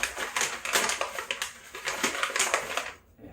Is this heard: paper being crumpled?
yes